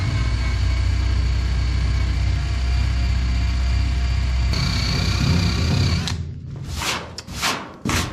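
A power tool with an eraser wheel grinds old emblems off an old-body-style Chevy truck bed, a loud steady whine that cuts out partway, followed by a few shorter bursts of grinding.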